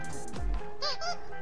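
A game bird honks twice in quick succession, loud and near, right after a deep low thump, with no talking over it.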